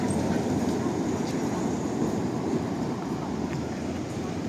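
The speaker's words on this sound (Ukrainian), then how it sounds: "А, Львів, трамвайчик." A tram rolls along a street in Lviv at night, a steady low rumble of wheels on rails with faint clicks, continuous and fairly close, with no talk.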